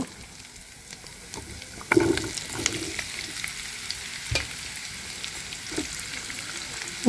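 Sweet pumpkin pieces drop into a pan of frying onion and green chilli, a sudden loud sizzle then steady crackling frying with occasional stirring scrapes, close by with no talking.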